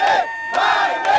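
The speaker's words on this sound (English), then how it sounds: "So good to hear all those women and children, isn't it? Cheering for Biden, for our president." A crowd of women and children cheering and shouting for President Biden at a rally, rising in loud repeated surges of voices with brief dips between them, close and forceful.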